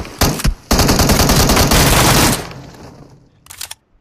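Rapid automatic gunfire in a shooter video game, a loud close burst running for about two seconds after a brief opening volley, trailing off, then a short final burst.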